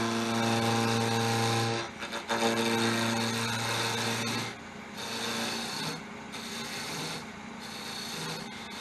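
Wood lathe spinning while a parting tool cuts off the end of the piece near the chuck, a loud close grinding rub with a steady motor hum that stops and restarts in short breaks, no speech.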